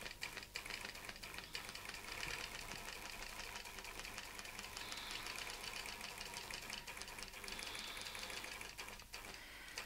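A sewing machine stitches a quilted fan pattern, running at a steady fast clatter throughout, close and loud with no pauses or talk.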